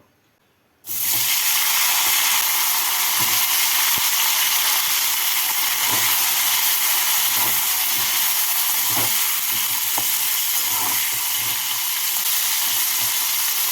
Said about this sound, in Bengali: এবারে ফুলকপিগুলোকে ভেজে নেব